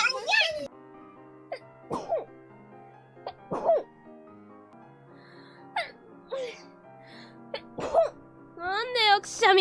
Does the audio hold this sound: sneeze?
yes